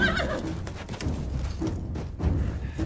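Horses neigh and whinny in a Game of Thrones scene, several loud close calls rising over thudding hoof clip-clops and scuffling, with no talk.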